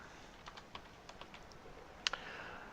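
Text is typed on a computer keyboard as quiet, sparse keystrokes, with a sharper cluster of clicks near the end.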